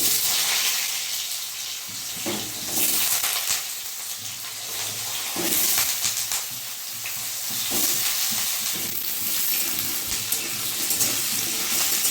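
Cut potatoes fry in mustard oil with dried chilli and panch phoron, a continuous bright sizzle that swells and dips as they are stirred, with no one talking.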